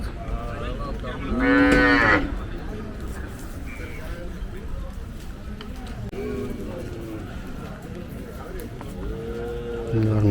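Native cattle at a livestock market bellow loudly near the start, followed by fainter moos later, over steady crowd murmur and people talking in the background.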